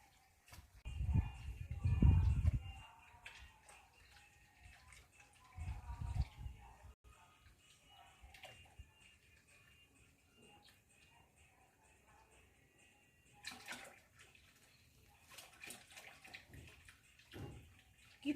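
Bore well water pumped into a holding tank for fish farming, heard as bursts of splashing and gushing water that come and go, with quieter stretches between.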